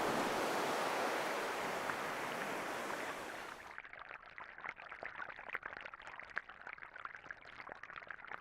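Open-ocean waves off Hawaii: a loud, steady wash of surf for the first few seconds, then quieter choppy water with scattered splashes and wind.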